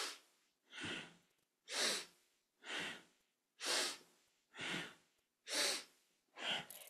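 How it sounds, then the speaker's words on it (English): During a kundalini yoga kriya for the heart centre, slow, rhythmic breathing repeats about eight times in steady alternating inhales and exhales. The breaths are close and airy, and there is no talk. "Inhaling up, exhaling down."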